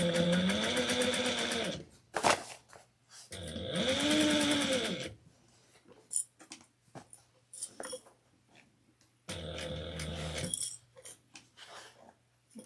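A sewing machine stitches a tote bag in three loud bursts of rapid whirring, with quiet pauses, scattered clicks and handling noises between runs, close up and without talk.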